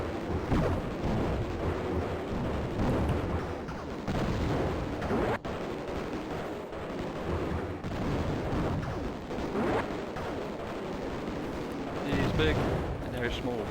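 Booming missile explosions and gunfire from a DOS video game rumble in a dense, continuous barrage, loud and close, with a player talking over parts of the action.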